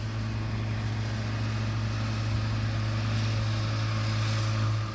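A tractor working in a hayfield with a loud, steady low engine drone and a constant mechanical hum, unbroken and fairly close, with no one speaking.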